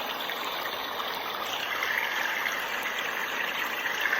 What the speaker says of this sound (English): kind of like running water, just like slowly